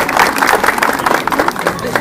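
Steady, dense audience clapping at the inauguration of a tourist walkway in San Miguel el Alto, loud and close, with crowd murmur mixed in.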